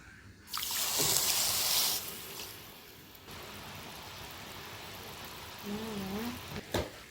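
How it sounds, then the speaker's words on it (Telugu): A cup of water is poured into a pan holding a cup of sugar for sugar syrup, a brief close splashing rush that fades into quieter kitchen clatter and a few clinks. "ఇప్పుడు మనము 1 కప్ వాటర్ పోసుకుందాం"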